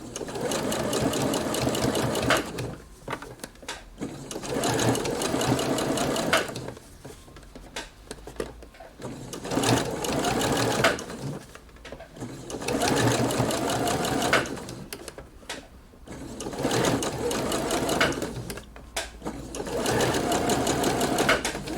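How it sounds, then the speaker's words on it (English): Sewing machine stitching around a blouse sleeve at a long stitch length, four sustained runs of loud whirring broken by short pauses with light clicks and fabric handling. "now I can go back to my sewing machine and I can stitch it all the way around"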